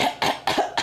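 Three quick, close coughs in a row, sharp and raspy, with no speech around them.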